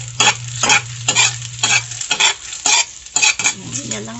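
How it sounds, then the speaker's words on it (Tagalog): An egg fries in hot oil and is scrambled, giving a bright sizzle broken by rhythmic scraping strokes of a utensil against the pan, loud and close with no talking. "Siyempre, nagpainit tayo ng mantika. And ilagay na natin yung ating itlog."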